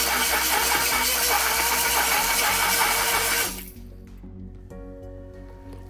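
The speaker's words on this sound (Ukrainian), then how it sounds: "Зараз ми будемо збивати в блендері." A blender runs loudly in a steady mechanical whir for about three and a half seconds, blending roasted vegetables with sour cream into a sauce, then cuts off, leaving a quieter hum in the background.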